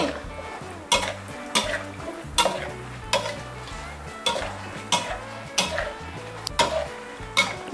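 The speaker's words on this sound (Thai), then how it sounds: "ดี๋ยวเราจะทอดให้พริกสุกนะคะพริกเขาเริ่มเปลี่ยนสีแล้วค่ะ" Chili peppers fry in a pan over low heat, crackling softly under a regular, repeated scrape-and-clink of a utensil against the pan, about one stroke per second.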